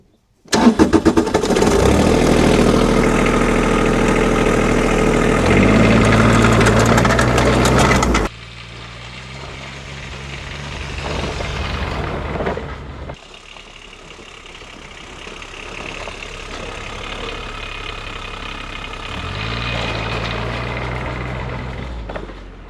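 A custom diesel-engined Power Wheels ride-on cranks and fires up, clattering loudly at close range for several seconds, then drops to a quieter running idle with a few rises in revs.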